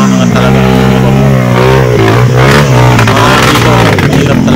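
Motorcycle engine straining and revving on a steep muddy trail, loud and close with rising and falling pitch and rough clattering as the throttle works; a voice speaks intermittently beneath it.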